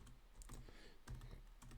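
Fast keystrokes on a computer keyboard, soft close clicks in uneven bursts with a slightly heavier tap partway through, played alone against quiet background noise.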